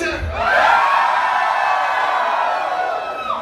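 A live comedy crowd in Houston screams and whoops on cue, a loud sustained roar of high-pitched voices that swells and then holds for several seconds.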